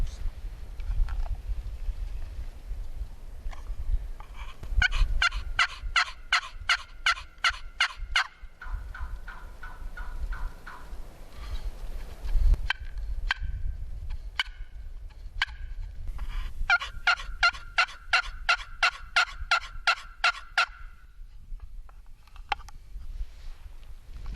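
Repeated rapid gobbling calls of wild turkeys in bursts, some fairly close and others more distant, over low rumbling outdoor background noise.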